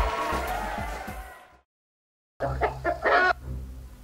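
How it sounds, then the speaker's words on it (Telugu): Roosters at a cockfight cluck and squawk amid noisy crowd commotion, which cuts to silence and then returns with sharper bursts of fowl calls. "మన బుల్లబ్బాయి గారి పుంజు 3 దెబ్బలు కొట్టింది, మన చిట్టిగాడి పుంజు 2 దెబ్బలు కొట్టింది."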